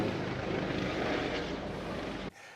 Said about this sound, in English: as the helicopter goes over